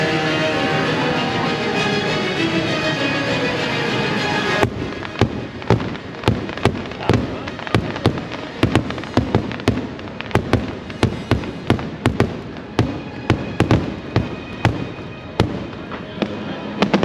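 Magic Kingdom fireworks bursting outdoors: after a few seconds of crowd ambience, loud sharp booms and crackles fire repeatedly in an irregular, steady barrage, close and powerful.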